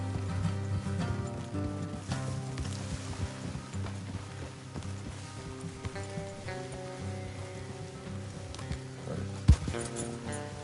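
Horses walking along a path in the Western world of Red Dead Redemption 2, soft steady hoof clops under a layered music score, with one sharp knock near the end.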